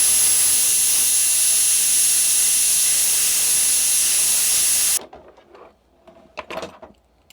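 A heat tool blows a steady, loud, close hiss onto an Insta360 X camera lens to loosen it, then cuts off abruptly, followed by a few faint handling clicks and taps.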